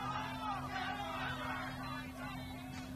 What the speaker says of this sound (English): Crowd wants a foul.